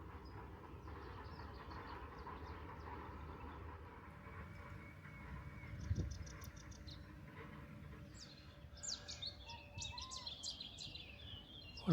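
Birds chirp and trill by the Petit Rhône in the Camargue, bright scattered calls coming in bursts over a steady low rumble, with a louder thud midway.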